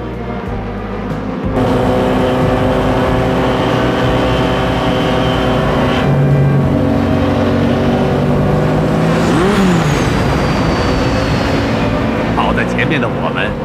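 A race car engine roars loudly and continuously during an animated car race, its pitch climbing as it accelerates, while voices talk over it.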